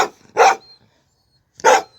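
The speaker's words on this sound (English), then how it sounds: "if you hear them bark in the background" Two dogs, Duke and Nova, barking indoors: two loud, sharp barks about a second apart, near and clear with silence between them.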